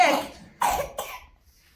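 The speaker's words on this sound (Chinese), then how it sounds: "就是有点咳嗽" A baby with a mild cough coughs three times in quick succession, close and fairly loud, each cough fading before the next.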